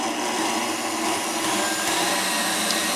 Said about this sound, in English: I'm going to do that now, and I'm going to continue beating until the whites achieve stiff peaks.